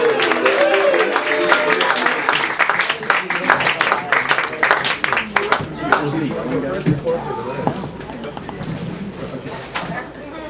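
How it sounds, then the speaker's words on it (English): Audience at an open mic night applauds to welcome a poet, with a dense wash of clapping and scattered cheers and chatter. "Let's have a big round of applause."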